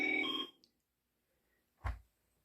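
A short burst of a telephone line ringing on central office equipment, close and clear, followed by silence and then a single dull click or thump as it hangs up.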